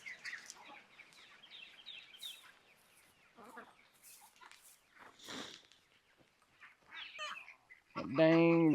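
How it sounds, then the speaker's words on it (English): A rooster crows loudly and close at the end, a strained harmonic call, after scattered clucks and bird noises around a farmyard during a rainstorm. "Dang rooster."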